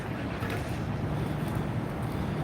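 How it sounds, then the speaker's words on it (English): Steady wind buffets the microphone outdoors in downtown Montreal, a constant low roar with gusty rumble throughout and no voices. "it's a little bit windy today, Brian."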